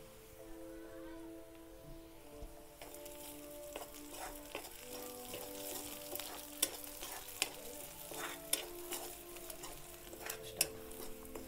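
Green chillies go into onion and garlic sautéing in a pan for a pumpkin leaf stalk dish, giving a soft steady sizzle with frequent sharp clinks and scrapes of a utensil against the pan.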